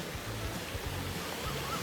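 A stream flowing down from Phrom Lok waterfall in Phrom Khiri, Thailand, makes a continuous broad rush of water with soft, low rumbling thumps underneath, and nobody speaks.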